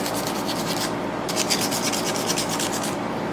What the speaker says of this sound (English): I have here some really fine 1500 grit sandpaper